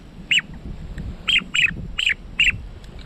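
A duck call imitates the whistled peeps of a green-winged teal, giving five short, shrill chirps in an uneven rhythm over low background rumble, close and fairly loud.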